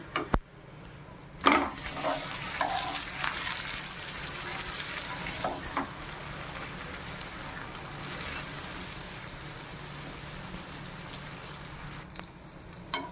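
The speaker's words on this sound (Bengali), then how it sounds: "এইভাবে একইভাবে উল্টে পাল্টে সবগুলো ভেজে নেবো আমি" Lachha paratha fries in a pan with a steady soft sizzle throughout, broken by a few louder clatters and taps as the flatbread is flipped, with no talking over it.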